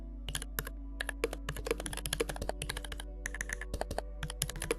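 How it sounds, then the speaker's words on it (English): Rapid, steady keystrokes on a computer keyboard, dense bursts of clacking with brief pauses between runs, close and clear with no voices. "I really prefer this sound for the keyboard."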